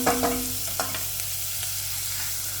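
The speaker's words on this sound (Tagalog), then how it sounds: "bawang at sibuyas sabay ko na siya. Tapos we have to stir it until it is a little bit brownish." Garlic and onion sizzle steadily in a hot pan, with a few sharp scraping stirs near the start before the frying settles into an even hiss.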